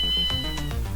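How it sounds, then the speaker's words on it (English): A cat in the video game Ghost Trick lets out a loud, clear meow over a steady electronic tone from the game's soundtrack. "Oh, Kitty!"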